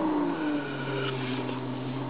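A BMW E46's engine runs steadily, a continuous mid-low hum with a faint shift in pitch as the revs change, heard alone without talk.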